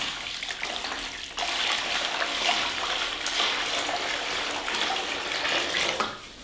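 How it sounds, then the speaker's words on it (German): Water splashes into a bucket to mix plaster for rendering window and door reveals. A steady, close pouring rush continues for several seconds after a brief pause near the start, with no talking. "Zum Anrühren immer erstmal Wasser."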